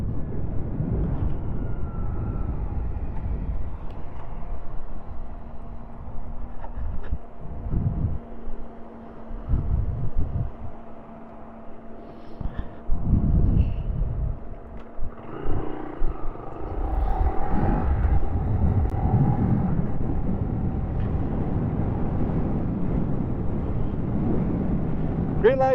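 A 2025 Honda Grom ABS motorcycle engine holds a steady buzzing drone in fifth gear at about 50 mph on a top-speed run, mixed with heavy wind rush and road noise throughout.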